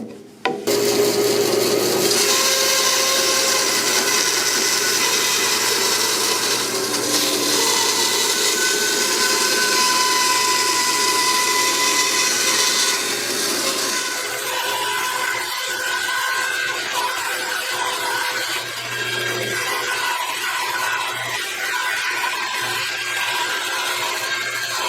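A wood strip for homemade edge banding is ripped on a power saw along the fence at about 1/16-inch clearance: a loud, steady rasping whine of blade cutting wood that runs unbroken for the whole stretch.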